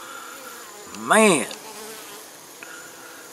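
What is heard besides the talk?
bees buzzing as they come into the hive in the evening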